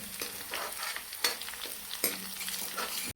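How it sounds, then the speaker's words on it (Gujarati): Chillies are stirred into a frying valor bean curry, with steady oil sizzle under repeated spoon scrapes against the pan, several distinct strokes over a few seconds, heard close and fairly soft with no talking. "મરચા નાખી દે, સારી રીતે મિક્સ કરી લે જોરદાર."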